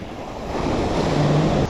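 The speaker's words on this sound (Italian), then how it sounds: "Questo ventaccio ha alzato più onde del previsto" Strong wind roars steadily against the microphone at a seashore, with breaking waves washing underneath in a constant, loud rush and no voices.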